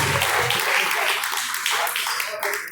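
Congregation at a church service clapping hands in joyful praise, a dense wash of claps that thins toward the end, with voices mixed in.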